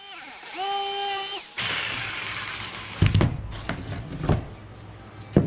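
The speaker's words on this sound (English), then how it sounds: "Yes, drilling holes in the bottom of this brand new dry box" A power drill bores holes into the bottom of a new plastic dry box, giving a whirring buzz followed by several louder, uneven bursts as the bit bites through the plastic, close and fairly loud.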